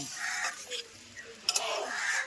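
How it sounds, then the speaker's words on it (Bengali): Chicken skin and leg curry is stirred in a pan after garam masala goes in, giving soft scraping strokes over a steady low sizzle, with a couple of sharper knocks near the middle. "গরম মশলাটা দিয়ে নেড়ে দিলাম"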